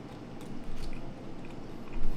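Bites into crunchy hard-shell plant-based tacos, a couple of close, quiet crunching and chewing bursts against a soft background.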